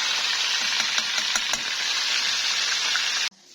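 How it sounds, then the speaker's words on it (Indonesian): Chicken frying in hot oil gives a loud, steady, dense sizzle with a few brief crackles, cutting off abruptly near the end. "ini ayamnya aku goreng."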